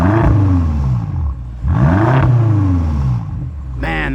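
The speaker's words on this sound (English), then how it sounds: "Let's get a little rev time with El Naz." A BMW car engine revved in two long, loud, close swells, each climbing and then falling back, with a short quick blip at the end.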